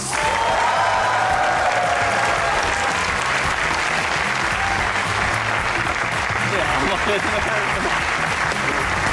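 A studio audience claps loudly and continuously to welcome the cricketers Imran Nazir and Wahab Riaz onto a TV comedy show, and a brief whistle-like tone sounds early on.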